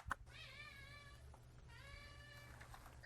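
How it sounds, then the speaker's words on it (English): A cat meows twice close by, two drawn-out wavering calls separated by a short pause, over a faint low background hum and a soft click at the start. "The cat loves it."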